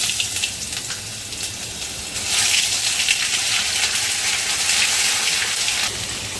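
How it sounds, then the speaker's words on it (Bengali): Ginger paste sizzling in hot oil in a pan while cooking khichuri, a steady hissing crackle that swells louder partway through and holds, with no talking. "আদা নিয়ে নিয়েছি তেলের উপর আদা দিয়ে দেবো"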